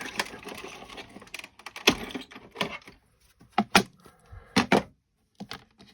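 A hand-crank die-cutting machine draws an embossing folder through its rollers, giving a close, irregular series of clicks, creaks and rattling bursts separated by short quiet gaps.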